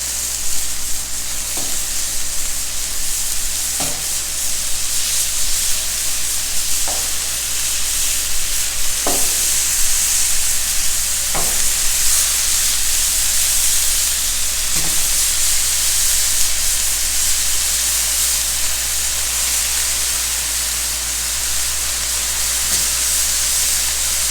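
Burgers soaked in Worcestershire sauce fry on a Blackstone griddle with a steady, loud sizzle and hiss. Occasional scrapes and clicks from a spatula sound throughout, and no one speaks.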